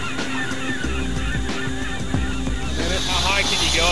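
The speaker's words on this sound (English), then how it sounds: "The seabirds flying nearby could be a complication." A large flock of seabirds calls repeatedly from close by, honking cries thickening toward the end over a steady low rumble.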